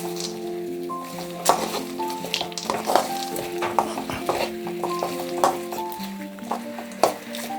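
Curry leaves and peanuts fry and get stirred in a pan for puliyogare, a bright steady sizzle with repeated spoon scrapes and light metallic clinks against the pan, close up.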